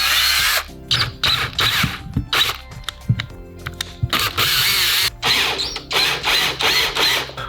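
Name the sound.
power drill drilling through a PVC end cap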